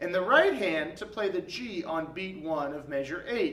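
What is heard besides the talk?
No everyday noises stand out.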